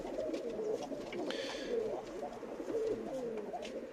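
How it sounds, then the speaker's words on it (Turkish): A Bozkırlı pigeon coos steadily indoors, a soft low rolling call repeating throughout at moderate distance. "Şu içeride öten şampiyon Bozkirli."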